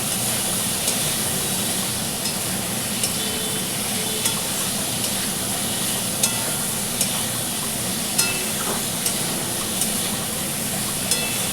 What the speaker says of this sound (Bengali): কপি আলুটা দিয়ে ভালো করে বন্ধুরা কষে নিচ্ছি আমি।